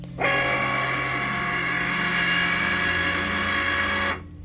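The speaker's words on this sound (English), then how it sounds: "you can go ahead and push the Cricut button" A Cricut cutting machine starts up and scans the cut lines before cutting stickers, giving a steady motorized whir with tonal hum that runs evenly for about four seconds and then stops.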